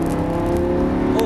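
A Lamborghini Gallardo accelerates on a wet race circuit in the rain, its engine a steady, loud, close drone with a rising tone across the short moment.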